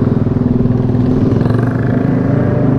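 A 2019 facelift Yamaha NMAX scooter engine runs loud and close, holding a steady throbbing drone with slight rev swells for the whole stretch, with no talking.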